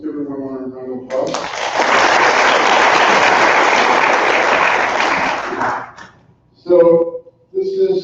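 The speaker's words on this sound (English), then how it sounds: "Let's give everyone a round of applause." Summit audience breaking into sustained applause, a dense wash of clapping that swells and holds for several seconds before tapering off, with a voice speaking just before and after.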